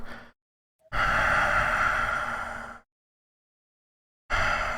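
A human voice imitates deep, heavy breathing during a Dungeons & Dragons tabletop session: two long, rasping breaths separated by a pause of silence, close and loud.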